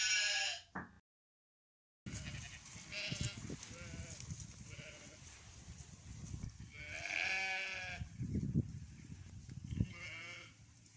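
Sheep bleat several times against a rough, noisy outdoor background, with a brief silent gap near the start and one longer, louder bleat in the middle.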